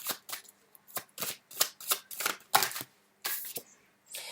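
Tarot cards being shuffled by hand in a quick series of papery riffles and soft slaps, close and fairly quiet, with no talking.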